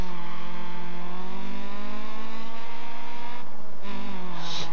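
Engine of a rally car in the game Dirt Rally drones loudly and continuously, pitch climbing steadily through the revs with a brief dip like a gear change near the end, close and alone without talk.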